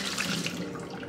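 Tap water running steadily into a container to rinse it out, a close, continuous splashing gush with no break.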